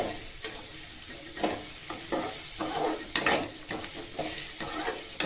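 Radish sautéed in a pan, heard close up as an even sizzle broken by repeated rhythmic scrapes of a spatula, some of them sharper, with no talking.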